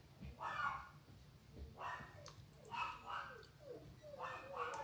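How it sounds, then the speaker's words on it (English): Dogs bark in several short bursts, somewhat distant and muffled, against a low background hum. "What are my dogs barking about?"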